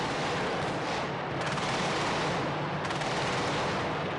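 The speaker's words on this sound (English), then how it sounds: "All the air defenses are opening up all around me at the moment." Continuous heavy anti-aircraft fire roars in a dense, rumbling wash, with bursts and explosion booms blending into a loud, sustained barrage during the Shock and Awe bombing.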